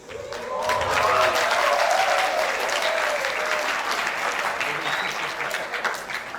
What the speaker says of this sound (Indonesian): Terima kasih, tepuk tangan kita semuanya.